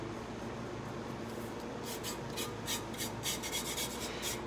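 Purple and green color-shifting glitter is rubbed onto a painted travel mug, a quiet, continuous soft scratching and rubbing with faint rhythmic strokes close by.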